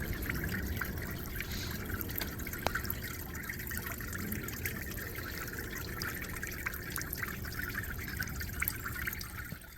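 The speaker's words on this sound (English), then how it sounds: "this one is a really nice one as far as the kind of trickling water feature" Steady trickling water from a garden water feature running over pebbles, a continuous soft babble with small drips, even and calm throughout.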